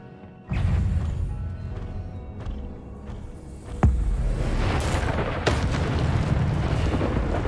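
Incendio fire spell cast in combat in Hogwarts Legacy, a sudden roaring whoosh of flame followed by a sustained crackling rumble with a sharp crash midway and another flare near the end, loud and continuous.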